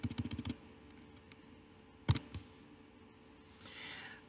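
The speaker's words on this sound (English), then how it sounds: "We'll type in Verge." Brief burst of keystrokes on a computer keyboard while a search term goes in, a quick cluster of clicks at the start and then one or two isolated taps, close and fairly quiet.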